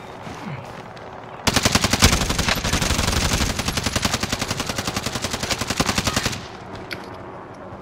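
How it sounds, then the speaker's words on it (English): Rapid automatic gunfire rattles continuously for several seconds, loud and close, then cuts off abruptly, leaving quieter background sounds. "Shoot up the helicopter."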